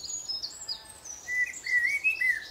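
A male collared dove or pigeon calling to mark territory, a series of clear, thin chirping notes rising and repeating close by against a quiet outdoor background.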